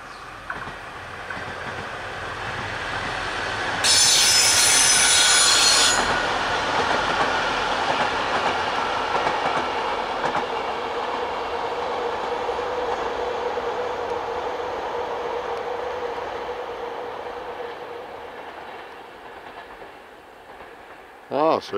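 Train on the Donautalbahn rolling past outdoors, a continuous rumble with wheel clatter that slowly fades as it moves away, a brief bright screech early on and a short sharp noise at the very end.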